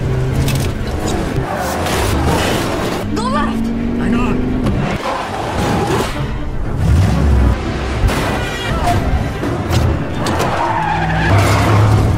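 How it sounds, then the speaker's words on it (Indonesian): A taxi and another car in a chase, tires skidding and engines revving in bursts over a steady roar, with someone narrating over the action throughout. "si penjahat yang sempat melihat mereka pun berusaha mengejarnya hingga aksi kejar-kejaran pun terjadi"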